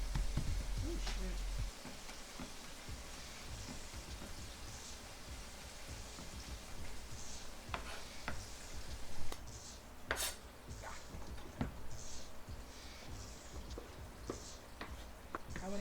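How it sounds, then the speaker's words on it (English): Soft, steady sizzling and crackling of buttermilk fried chicken frying in oil, with occasional clinks of a utensil against the pan. "Those are frying still."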